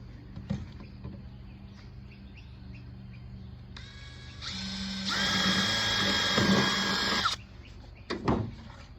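A power drill with a 3/8 bit bores into a plastic cup, a high whining spin-up building to a sustained grinding bite for a few seconds before stopping, framed by soft handling clicks and faint birds chirping outdoors.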